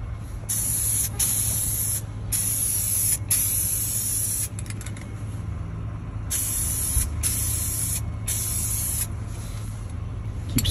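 Several bursts of aerosol spray paint on a car seat, each a sharp hiss lasting about a second, separated by short pauses over a low steady hum.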